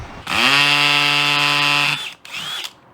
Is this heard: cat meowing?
no